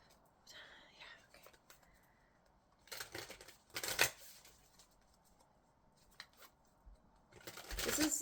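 Cards from the Radical Abundance oracle deck are shuffled and drawn with soft riffling and slapping bursts, close and fairly quiet, under faint whispering between the shuffles.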